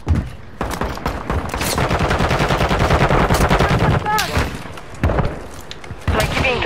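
Rapid bursts of gunfire in Call of Duty: Warzone 2.0 crackle loudly and almost continuously, with short pauses between volleys and a few whistling ricochet-like tones.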